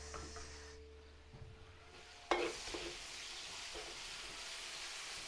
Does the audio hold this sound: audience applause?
no